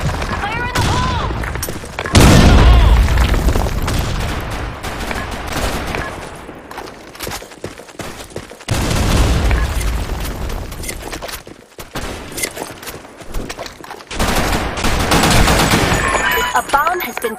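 Video game combat with a grenade explosion amid rapid gunfire, loud bursts of automatic fire and booming blasts throughout, with shouted voices over the battle.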